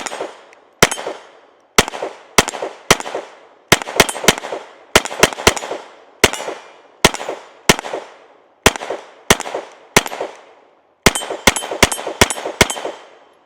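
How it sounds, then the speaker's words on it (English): Repeated pistol shots fired while testing an Olight SE enclosed optic, loud sharp cracks in irregular groups and doubles with short echoing tails, no talking. "Let's go ahead and take a few more shots."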